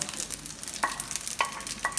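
Curry leaves and hing tempering stirred in a hot pan, giving a soft steady sizzle with a few brief scraping strokes of the spoon at the pan.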